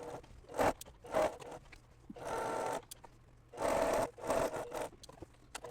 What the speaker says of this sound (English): Okay, so I'm sewing along this right side.